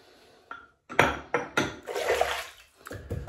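Water splashing in short bursts as a face is wet before shaving, several close splashes and a brief trickle in a quiet room.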